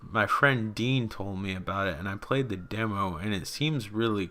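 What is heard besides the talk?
No everyday noise stands out behind the speech.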